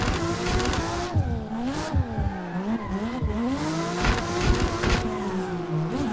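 A car engine in a sim racing drift game revs hard and bounces off the rev limiter, the pitch rising and stuttering repeatedly alongside tire squeal, loud and continuous.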